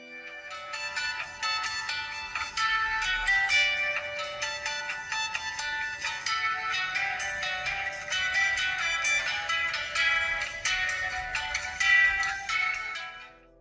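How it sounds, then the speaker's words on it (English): A bright, melodic default ringtone plays steadily for over ten seconds through the small speaker of a 2014 Huawei Ascend budget phone, looping its tune with a slightly tinny tone and no talking. "I had to test the speaker using the default ringtone."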